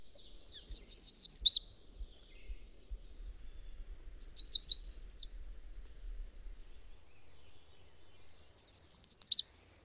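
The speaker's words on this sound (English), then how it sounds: "And finally, the red start. American red start." An American redstart singing, three separate bursts of high, thin, rapidly repeated notes ending in an emphatic downslurred flourish, each phrase clear and close against a quiet background.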